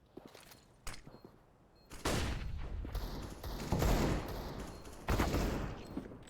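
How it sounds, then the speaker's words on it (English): Rapid gunfire bursts from a competitive team-based tactical shooter video game, with sharp loud shots clustering around the two- and five-second marks over a steady background of game noise. "2 immediate shots fired by Sidestep and Zeptic to find the heads of Lasky and Hayes"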